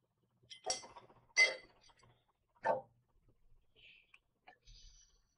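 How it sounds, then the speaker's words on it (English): Rum and black cherry soda stirred in a glass: a few bright clinks and taps, spaced irregularly and close up, then faint light ticks in a quiet room. "Give that a quick little stir."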